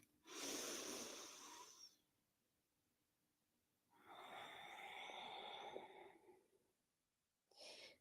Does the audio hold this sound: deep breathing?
yes